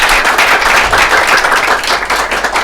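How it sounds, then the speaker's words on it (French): Loud, close, continuous clapping from students of a technical high school in Bamako during a broadcast show, dense and unbroken throughout. "Applaudissez pour vous"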